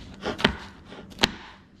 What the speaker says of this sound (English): When you cut them from the skin side down, you get more resistance from the knife.